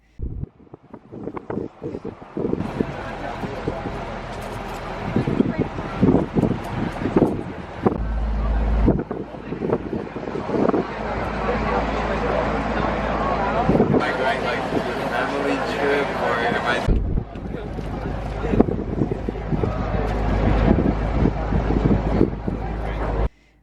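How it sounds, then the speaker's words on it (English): Slow boat travelling down the Mekong River in Laos, with steady engine drone and heavy wind buffeting the microphone, people talking over it throughout. "Everyone piles back up on the boats for about 8 hours, travelling down the Mekong River"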